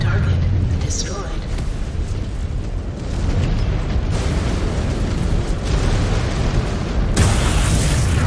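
A mech blowing apart in MechWarrior 5: Clans, a dense, sustained explosive rumble that stays loud throughout, with a brighter burst of debris near the end and game voices over the top.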